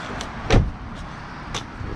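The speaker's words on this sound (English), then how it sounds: "Let me find my key. Alright, unlock. This door opens." A Mitsubishi Evo X door unlocks with a sharp actuator thunk, then the door opens with a soft click shortly after, close by in a quiet setting.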